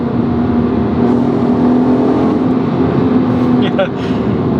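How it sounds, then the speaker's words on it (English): VW Golf MK5 R32 engine pulling hard, a loud steady drone held close and strong throughout, with brief higher tonal chirps near the end. "let's do one last pull before heading to the coffee bar"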